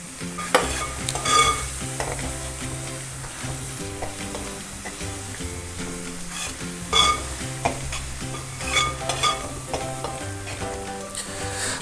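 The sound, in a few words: stirring egg roast masala gravy frying in pan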